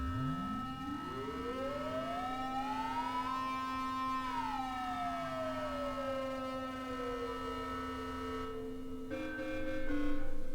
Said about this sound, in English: You're getting that ring mod sound.